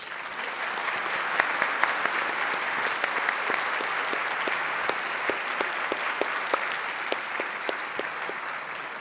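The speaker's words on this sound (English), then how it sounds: "let's have a round of applause for our sponsors" Audience at an annual luncheon program applauding its sponsors, a sustained wash of many hands clapping with sharp individual claps popping out near and loud throughout.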